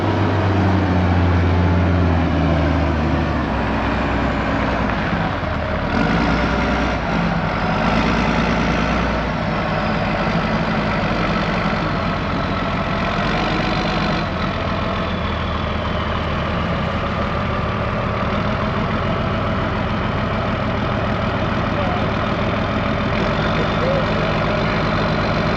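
Nissan forklift engines idling side by side at an equipment auction yard, a steady low rumble that holds loud and close for the whole stretch, with brief shifts in tone early on.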